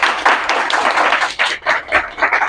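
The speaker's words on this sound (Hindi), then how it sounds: "एक बार इसके लिए ताली हो सकती है" An audience claps loudly and unevenly in dense bursts, many hands together, with no speech over it.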